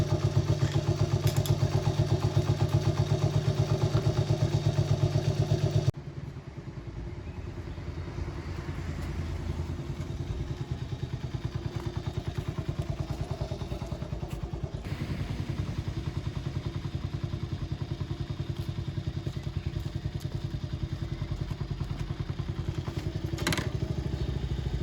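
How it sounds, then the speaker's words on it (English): A Honda DAX ST50 motorcycle engine idles close up for about 25 seconds, a steady low throbbing putter with light mechanical clatter. It sounds louder and rougher for the first few seconds, then settles into a quieter, even idle. "the engine's now up to temperature"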